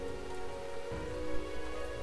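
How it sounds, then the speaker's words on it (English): Steady rain patters across the ground in Starbound, a dense, even hiss of drops with a low rumble underneath and no voices over it. "apparently it started raining while I was trying to get out"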